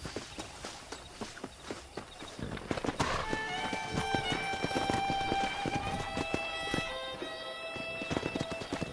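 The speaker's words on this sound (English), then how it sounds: "Let's see if we can't wrangle some horses." Horses gallop with rapid hoof clip-clops in the Western video game Red Dead Redemption, and a loud whinny rings out midway over the continuous drumming of hooves.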